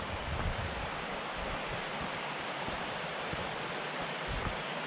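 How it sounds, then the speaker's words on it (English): A beck flows along a crag walk, its water rushing as a broad, steady roar with no breaks, loud and close, no voices. "the sound of the water has got louder"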